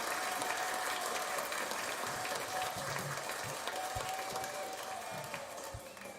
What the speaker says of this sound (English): It was a long applause.